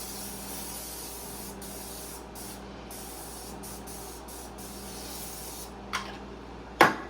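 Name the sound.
spraying grease onto a baking pan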